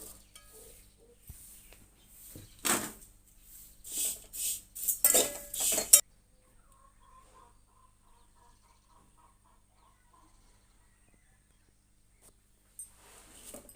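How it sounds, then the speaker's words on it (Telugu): Flattened rice (atukulu) dry roasting in a thick pan on a stove flame, giving bursts of scraping and rustling stirring for several seconds, then near silence with a faint sizzle and a brief stir at the end. "స్టవ్ లో ఫ్లేమ్లో పెట్టి అటుకులు వేసుకుని డ్రై రోస్ట్"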